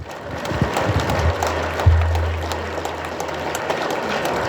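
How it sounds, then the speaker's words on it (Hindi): A group of people clap their hands together at a gathering, producing a steady, dense patter that continues throughout with a low hum underneath. "ताली बजाओ।"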